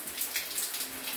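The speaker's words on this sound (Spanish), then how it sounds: "aquí está ya don Fabio bañándose." A man bathes in a river, splashing and scrubbing himself with steady, close water splashes and trickling that continue throughout without a break.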